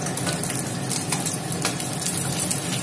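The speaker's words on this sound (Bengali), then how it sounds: "চিকেন গুলো দ্বিতীয়বার করে ভাজা চলছে" Chicken pieces frying a second time in oil in a kadai for dry chilli chicken, a continuous close sizzle and crackle with scattered sharp pops, with no voices.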